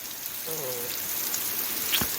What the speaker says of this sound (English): it started raining cats and dogs up here